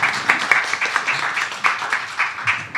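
Scattered audience clapping welcoming an emeritus professor at an academic conference, fairly light and uneven with distinct individual claps rising and falling over a few seconds.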